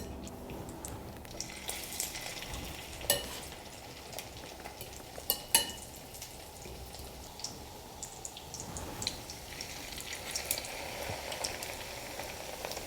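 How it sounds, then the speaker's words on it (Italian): Bread slices soaked in egg fry in butter and oil in a pan, a soft, even crackling sizzle throughout with a couple of faint utensil taps, quiet and without talk. "Mettiamo il burro a friggere con anche l'olio, ci mettiamo le fettine bene inumidite nell'uovo."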